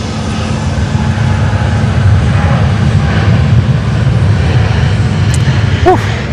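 A Boeing 787 airliner passing near Sydney Airport during the morning rush, a steady loud engine roar filling the whole stretch without letup.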